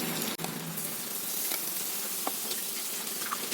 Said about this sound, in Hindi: मध्य फ्लेम पर रखकर ही मछली को फ्राई होने देंगे